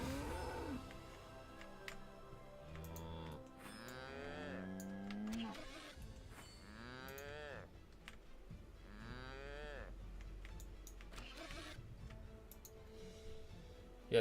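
Cattle in the video game Tibia moo again and again, long drawn-out lowing calls that overlap and echo one after another, set against a faint ticking game background with no talking.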